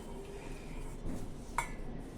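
A short clink as a mixer grinder jar is handled and set down, over quiet kitchen background noise.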